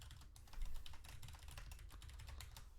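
Quiet, steady typing on a computer keyboard, with a rapid run of soft key clicks and a slightly busier burst near the start, heard alone without talk.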